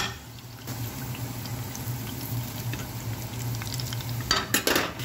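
Onion, garlic and butter sautéing in a pan for a moussaka with eggplant, a steady low sizzle with stirring and light scraping, then a few sharp utensil clinks near the end.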